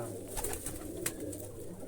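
Pigeons in a loft, among them a paired hen, give soft, close cooing that runs steadily under light background chatter, with no voices speaking.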